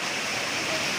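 Floodwater rushes loudly in a river during the 2022 Pakistan floods after water release from India, a broad steady roar of moving water filling the whole moment without pause.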